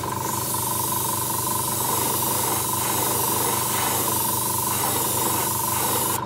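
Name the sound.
airbrush spraying paint onto a fishing lure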